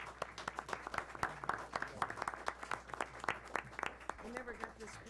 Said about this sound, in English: Let's give all the students another round of applause there.